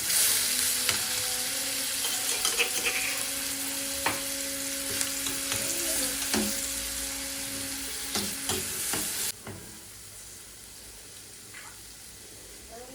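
A spoonful of garlic sizzles in butter and oil, a loud steady crackling hiss broken by sharp clicks and stirring knocks, with a faint voice under it before the level drops near the end.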